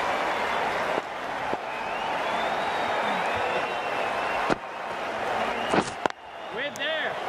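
Stadium crowd noise in the Cricket 19 video game during an India versus England T20 match, a broad steady roar with some clapping and cheering, broken by a few sharp knocks, while a commentator talks over it.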